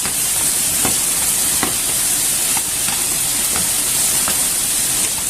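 Loud, steady sizzling of chunky pork frying in a pan, with occasional light scrapes and pops throughout.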